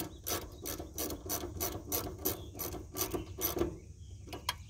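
A ratchet snugs the screws on a 2005 Scion xB fuel pump, with a series of quick rhythmic clicking strokes at close range and a faint low background hum, no talking.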